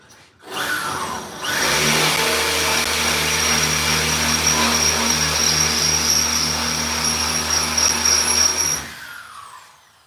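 A power drill bores into the rusty roof of a 1967 Pontiac Firebird, starting with a short burst, then a loud, steady whining grind with layered tones for about seven seconds before spinning down.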